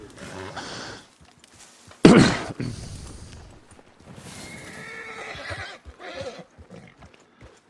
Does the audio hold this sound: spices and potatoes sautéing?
no